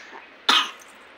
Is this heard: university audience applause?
no